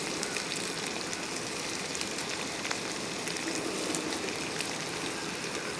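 Finely chopped onion sizzling in a hot pan for a Kerala jackfruit thoran, a steady close hiss and crackle throughout, with no talking.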